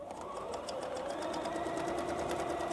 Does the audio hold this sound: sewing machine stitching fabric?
yes